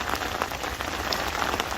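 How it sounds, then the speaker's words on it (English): Steady heavy rain during a storm drums continuously on a surface at a fishing syndicate lake in autumn, a dense close hiss with scattered louder drops and no pauses. "we're in the midst of the storm at the moment"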